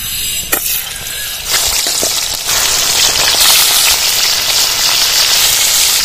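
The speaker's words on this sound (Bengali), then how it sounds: "এবার মাছগুলো তেলে ছেড়ে দেব" Koi fish dropped into hot mustard oil, a loud, dense sizzle that bursts up and intensifies in steps as the pieces go in, then roars on steadily up close.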